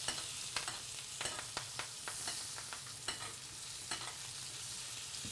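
Steak basting in a frying pan with béarnaise-style French cooking, a soft continuous sizzle broken by repeated light spoon taps and splashes as fat is spooned over the meat, close and fairly quiet.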